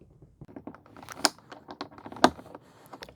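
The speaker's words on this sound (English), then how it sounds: "you take your plastic trim tool or flathead screwdriver and pry right here" A plastic trim tool prying at a 2013-2016 Ford Escape front door panel, heard as a run of sharp plastic clicks and ticks with two louder snaps, close up and fairly quiet, with no speech.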